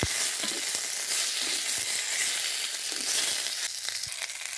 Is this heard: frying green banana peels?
yes